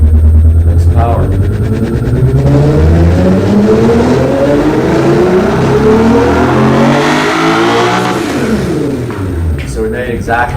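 A car engine revs up on a dynamometer during a power run, with its pitch climbing steadily in a loud, sustained sweep before easing off, while a person talks over it.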